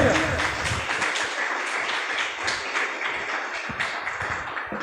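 A church congregation claps for the Lord during a worship service, a dense, steady patter of many hands that fills the room for about five seconds.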